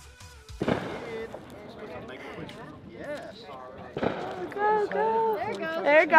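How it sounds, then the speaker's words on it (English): Sharp popping bursts of Independence Day fireworks go off, with a loud crack near the start and another later, while people talk and cheer throughout. "First firework of the night."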